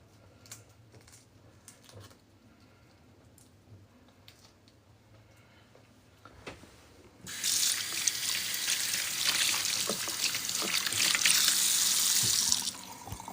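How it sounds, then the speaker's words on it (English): A kitchen sink tap runs hard and steady for the last several seconds while hands are washed under it, a loud broad water rush after quieter kitchen handling sounds, with no talk. "Wash your hands a bit."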